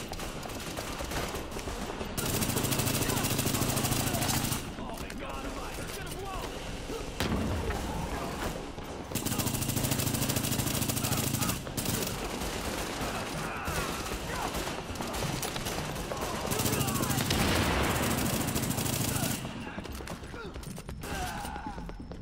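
Automatic weapon fire in Tom Clancy's The Division, loud sustained bursts of rapid gunshots lasting a few seconds each, separated by short pauses, with thuds and impacts between volleys.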